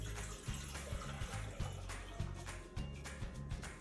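Water pouring from a tap into a pot, about four cups for elderberry syrup, a steady close splashing stream with repeated low surges and gurgles, no voices.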